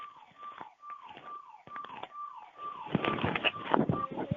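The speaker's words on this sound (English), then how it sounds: "I don't want to give this year with this siren going off." A siren or alarm sounds over a phone line during an online meeting, a repeating falling tone that grows louder and busier toward the end.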